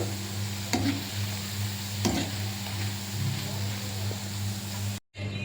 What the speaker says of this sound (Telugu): బాగా కలిపేసుకొని వేడి వేడి నూనెలో దీన్ని స్నానం చేద్దాం